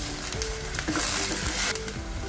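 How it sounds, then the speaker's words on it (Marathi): Paneer in white pepper gravy simmering in a pan, giving a continuous close bubbling sizzle with faint stirring scrapes and no talk. "हे थोडा वेळ असं उकळू द्यायचं"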